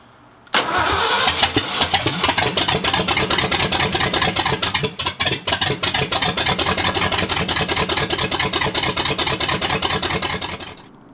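A brand-new Ford 351M V8 engine cranks on its first start attempt without firing, with a rapid, rhythmic chugging from the starter, continuing steadily for about ten seconds before cutting off, close and loud.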